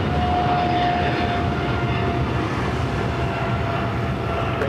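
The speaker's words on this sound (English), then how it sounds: "777-300ER, flight 15 heading to Tokyo Haneda, now rolling down to 25 right" A Boeing 777-300ER rolls for takeoff on an LAX runway, its jet engines giving a loud, constant roar with a thin steady whine above, continuous for the whole stretch with no talk.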